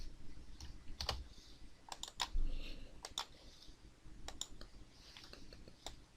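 Computer mouse clicks come from a Photoshop editing session as sharp, quiet, irregular taps spaced across a few seconds against a faint background hum.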